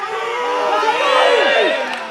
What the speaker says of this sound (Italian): Bravissimo, applausi meritatissimi